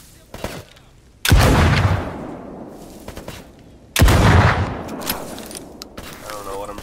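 Two heavy, booming gunshots in S.T.A.L.K.E.R. GAMMA, each a sharp loud crack with a long echoing tail, a few seconds apart, with someone talking quietly between them.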